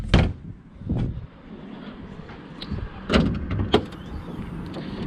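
Front boot lid of a 997.2 Porsche 911 Carrera S Cabriolet being released and lifted, a few distinct thunks and latch clunks spaced over several seconds, close by with no talking.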